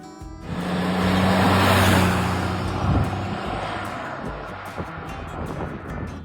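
A rusty, patinaed rat rod car idles and revs outdoors, its engine rumble swelling to a loud peak and then settling into a steady running note, with some wind noise over the microphone.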